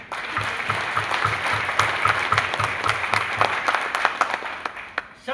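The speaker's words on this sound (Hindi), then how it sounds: "हम चाहेंगे सतीश सर का एक ताली बजाएंगे।" Seminar audience in Bhilwara clapping for a speaker, a loud, dense round of applause with rhythmic beats and a few sharp claps standing out, with no talk over it.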